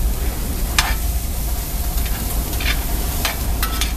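Onions and green peppers sautéing in a cast iron pan give a steady, close sizzle with faint stirring scrapes and a few brief sharp clicks, no voices.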